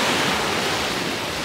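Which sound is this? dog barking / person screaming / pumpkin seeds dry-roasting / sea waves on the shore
sea waves on the shore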